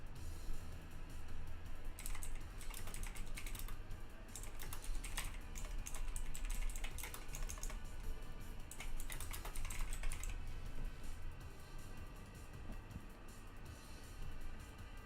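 Rapid, steady clatter of keys on a loud mechanical computer keyboard, close and continuous, with bursts of faster typing over a low background hum; no voices.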